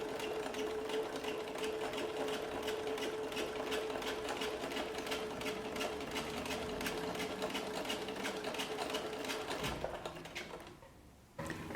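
A sewing machine stitches a straight line across the top edge of a piece of fabric, a fast, even mechanical whir with rapid needle ticks running steadily close up, then stopping near the end.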